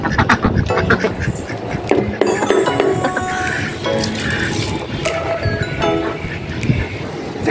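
Ducks quack repeatedly and close by while being fed leftover rice and scraps, with splashing water and running-tap sounds mixed in throughout.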